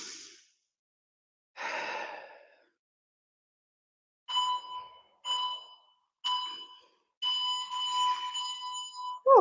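A workout interval timer beeps in a string of short, evenly spaced electronic pulses. A breathy exhale or two comes first, then the tones sound moderately loud and close, with no talking.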